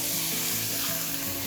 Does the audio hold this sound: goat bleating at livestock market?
no